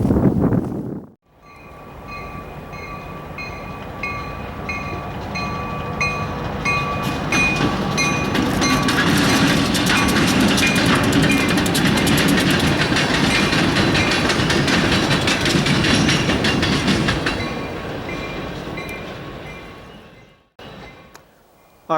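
Housatonic Railroad freight train approaching and rolling past close by, a loud sustained roar of engine and wheels with clattering cars building over about fifteen seconds, then dropping away abruptly near the end.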